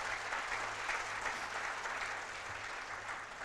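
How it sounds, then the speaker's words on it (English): A peace leadership conference audience applauds, producing a sustained, dense, even roar of clapping that fades slightly toward the end, with a low hum underneath. "Let's give him a round of applause"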